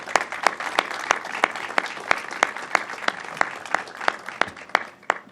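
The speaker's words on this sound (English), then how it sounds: "So let's give them all a round of applause." Audience applause at a governor's announcement on the fentanyl crisis: a small crowd claps in a dense, steady patter of sharp individual hand claps, close and fairly loud, with no voices over it.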